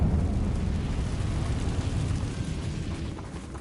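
Confringo fire spell going off in Hogwarts Legacy, a deep rumbling blast with a roaring low-end burst that slowly fades, close and loud with no voices.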